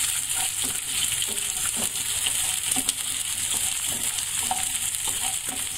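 Chopped onions sizzle steadily in hot oil in a kadhai, with scraping stir strokes cutting through the continuous crackle at a close, even level.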